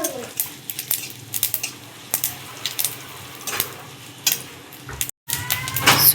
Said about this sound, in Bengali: সর্ষেটাকেও একটু ভেজে নেব তেলে।